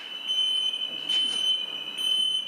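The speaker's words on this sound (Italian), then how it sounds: "Scatta l'allarme acustico e visivo." An acoustic alarm sounds during a workplace evacuation drill, a loud steady high electronic tone held without a break over a faint background hum.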